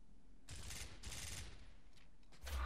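Rapid gunfire from the Gears of War video game comes in two sustained bursts, then a shorter third burst near the end. Each is loud and dense, with a fainter gap between, and no one talks over it.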